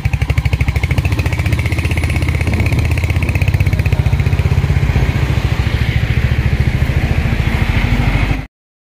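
A Royal Enfield Bullet motorcycle idles close by with a loud, steady, rapid thumping beat that runs evenly for several seconds before cutting off abruptly.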